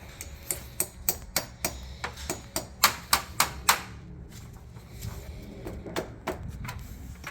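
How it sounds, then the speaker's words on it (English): A hammer taps into a cut-off wheel in a run of sharp, evenly spaced strikes that grow louder, pause, then resume more softly, close and distinct over a low background hum. "get a hammer and tap it in if it's good"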